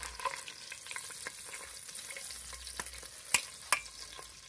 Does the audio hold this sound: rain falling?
no